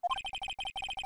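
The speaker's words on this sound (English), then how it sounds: "I heard a phone ring just now." A phone ringtone in the Phoenix Wright Ace Attorney video game, a brief electronic burst of rapid repeating beeps that sounds close and clear.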